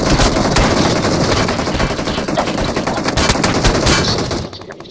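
Rapid automatic gunfire from a video game rattles in dense, continuous bursts that sound loud and close, then cuts off abruptly near the end.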